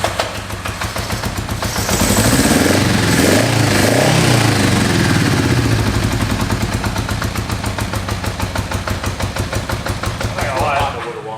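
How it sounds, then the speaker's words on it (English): An old Honda motorcycle engine that sat flooded for about 30 years runs roughly and loudly, with a steady throbbing idle, irregular pops and a brief rise in revs early on. "There's a bit of engine noise."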